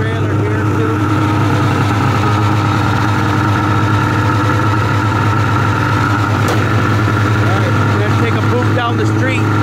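A 2003 Ski-Doo Blair Morgan snowmobile engine runs through an exhaust can, a loud, steady, droning idle that holds constant throughout, with faint background voices.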